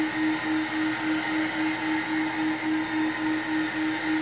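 Rotovac rotary carpet cleaning machine running steadily on carpet, a close, constant motor whine with a strong steady hum and a gentle rhythmic pulse from the spinning heads, no voices.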